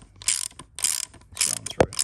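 A valve spring compressor tool is backed off on a Barra engine, giving a series of sharp ratcheting clicks in short bursts, close up, with one brief metallic knock near the end.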